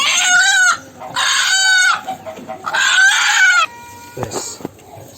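A hen clucking loudly and close by in a backyard setting, three drawn-out, throaty calls in a row followed by a few softer clucks and rustling.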